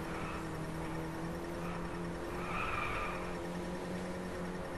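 A car drifts and skids in the Driveclub racing game on a mountain course, a sustained engine drone with a long tire squeal rising midway, steady and fairly quiet throughout.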